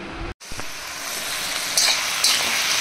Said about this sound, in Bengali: তো এখানে আমার শাক ভাজাটা হচ্ছে